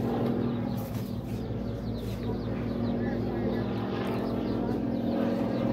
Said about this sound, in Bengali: বাসার উপর দিয়ে হচ্ছে প্লেন